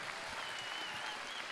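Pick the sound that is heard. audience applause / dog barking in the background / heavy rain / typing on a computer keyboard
audience applause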